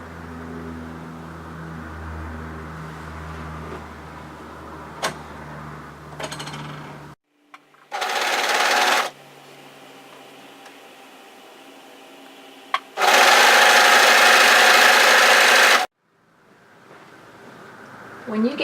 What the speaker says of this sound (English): overlock from that notch there across the top of the yoke